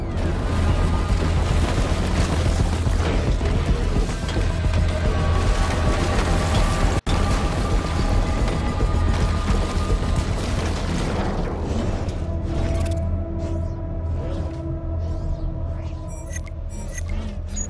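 A heavy explosion erupts in Batman: Arkham Knight during a vehicle battle, disabling an enemy's main cannon. Deep, loud booming and rumbling fill the whole stretch, with a sharp break partway through before the roar thins into mechanical tail sounds.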